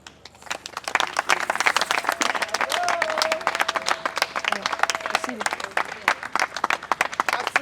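Applause from an audience at the close of an Astral Théâtre stage show from Kinshasa, dense clapping with a crowd murmur and a voice speaking over it, steady throughout.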